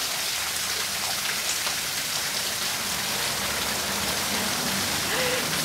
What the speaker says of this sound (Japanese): ダラダラダーと水が出ている滝が2口あります。